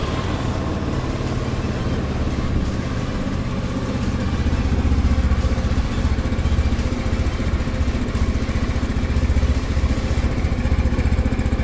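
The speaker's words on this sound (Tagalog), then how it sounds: "Ngayon naman guys, try natin ipa-start yung makina niya." FKM Labi 150 motorcycle engine running at a steady idle, a close, continuous low mechanical rumble with even loudness and no speech.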